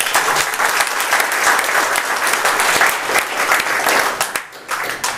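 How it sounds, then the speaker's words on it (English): Applause from a conference audience at a technology summit, a loud dense wash of many hands clapping that holds steady for several seconds before thinning slightly toward the end. "let's give a round of applause for the Python track."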